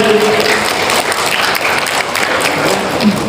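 Seminar audience giving loud, sustained applause as a speaker is welcomed onto the stage, dense clapping filling the whole stretch with little else heard.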